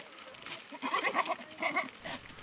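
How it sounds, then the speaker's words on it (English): A herd of goats bleating close by, several wavering calls overlapping in quick succession over a couple of seconds, with quiet outdoor background. "He manages a herd of 80 goats"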